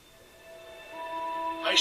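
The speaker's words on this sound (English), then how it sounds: "And so we can hear the speakers as well" Music and voices from a 1080p video trailer play through the built-in speakers of an Asus Transformer Book TX300 13-inch laptop, with steady tones rising gradually in level and a brighter burst at the end.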